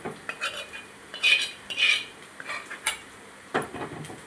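Raw prawns with bitter gourd are stirred in a pan, giving scattered clinks and scrapes of a utensil against metal, close by, with no voices.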